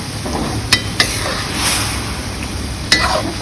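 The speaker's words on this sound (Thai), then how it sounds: "การผัดอันนี้เราก็ใช้ไฟกลางนะคะ" Fish with red curry paste, fish sauce and palm sugar stir-fried in a pan over medium heat: a steady low sizzle under a few sharp clicks of a utensil against the pan.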